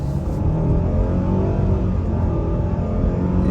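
A 2023 Mitsubishi Outlander SEL Black Edition accelerates hard on the gas, its engine building to a steady, loud, continuous drone with road noise throughout, no talking.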